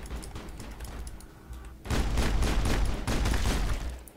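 Mass Effect gunfire from an overheating gun: rapid, loud bursts of shots that intensify midway into a dense, sustained volley, with brief gaps between clusters.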